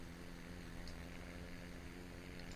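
Propeller airplane engine in the game SimplePlanes, a steady droning hum with a buzzing tone, constant and faint, with no speech.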